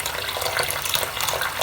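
Hot water runs steadily from a tap over rolling tubes being washed in a sink, a continuous close hiss and splash with no pauses.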